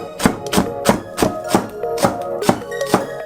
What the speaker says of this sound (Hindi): हम एक छोटा हरा प्याज लेते हैं, इसे हल्का काट कर